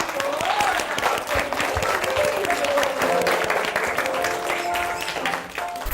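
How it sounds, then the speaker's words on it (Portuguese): Audience applause for a guest at a music institute event, a steady wash of crowd clapping over several seconds with faint tonal sounds and murmurs underneath. "Palmas para nossa convidada que participou."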